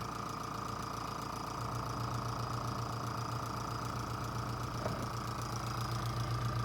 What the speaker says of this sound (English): fire up my compressor